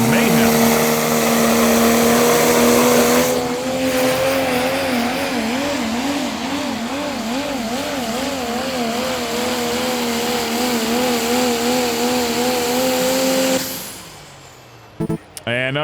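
A Pro Stock diesel pulling truck makes a pull on a dirt track, its roughly 2,000-horsepower engine roaring loud and steady with a wavering pitch for many seconds before it cuts off sharply near the end. An announcer talks over it.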